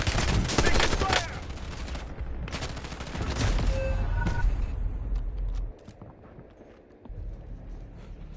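Dense bursts of rapid automatic gunfire and scattered single shots from the Warzone battle-royale video game, loud and close, with a brief radio-style voice line in the mix before the firing thins out toward the end.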